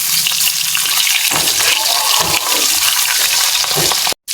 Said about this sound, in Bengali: এখন লেঞ্জাগুলা ছেড়ে দিন, লেঞ্জাগুলা ছেড়ে দিন, লেঞ্জাগুলা উল্টে দিন।